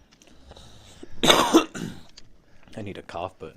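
A person coughs and clears their throat on a hike on Mt Diablo: a loud burst of coughing in the middle, then softer rough throat sounds toward the end, close to the mic.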